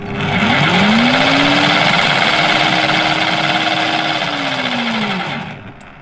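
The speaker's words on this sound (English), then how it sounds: "I'll quickly fire it up to show you just how loud it is." Ryobi RSH3045U 3000W impact branch shredder started up empty: a loud, steady motor whir whose tone rises as it spins up, holds a constant drone, then winds down in pitch as it shuts off, with no talk.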